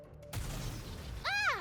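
Enemy Grave firing on the squad in the NIKKE video game: a sharp gunshot crack breaks a quiet moment, followed by rumbling reverberant noise and a rising whistling tone near the end.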